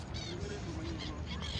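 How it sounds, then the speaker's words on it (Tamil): Seagulls calling at Doha Port while being fed, giving repeated harsh, squealing cries in short bursts over a steady background of wind and harbour noise. "இந்த சீக்குள் பறவைக்கு நாங்கள் வந்து இறை கொடுத்து ட்ரை பண்ணி பார்த்தோம்."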